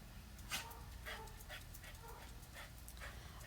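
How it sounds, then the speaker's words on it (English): A dog barks and yips faintly in short repeated bursts against a quiet indoor background. "Sorry about my dog barking."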